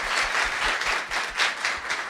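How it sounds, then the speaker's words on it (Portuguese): An audience at a university seminar on distance-education quality claps for speaker Márlis, dense continuous applause with pulsing bursts, moderately loud and uninterrupted by voices. "dar uma salva de palmas para a Marlis"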